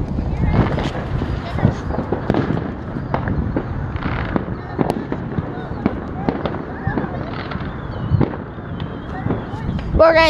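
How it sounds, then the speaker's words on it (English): Fourth of July fireworks burst in a rapid series of sharp bangs and crackles, fairly close and loud, with wind buffeting the microphone throughout. "those fireworks right there"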